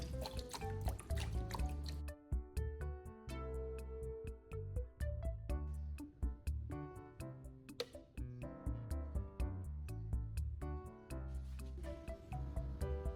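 Water drains out of car battery cells in a soft, irregular stream of drips and trickles, quiet and close, heard alone without any voice.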